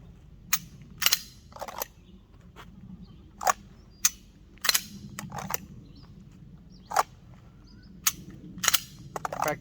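Handgun shots ring out in a draw-and-shoot training drill: about a dozen sharp, short cracks, spaced irregularly and sometimes in quick pairs, over a low steady background.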